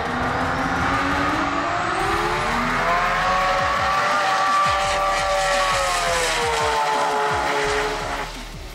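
A 2,000-horsepower Nissan Skyline GT-R drag car with a Turbo 400 transmission and 9-inch differential roars loudly at full throttle, its engine pitch sweeping up and holding steady for several seconds before cutting off, with no talking.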